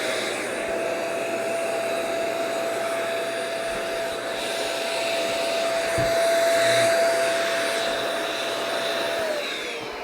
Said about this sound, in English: I do have a little vacuum here nice and handy